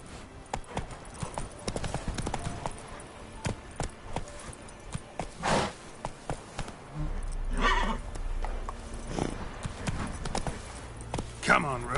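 Roach the horse gallops in The Witcher 3 video game, with quick, rhythmic clip-clop hoofbeats close by, a snorting whinny, and a voice speaking over the running hooves.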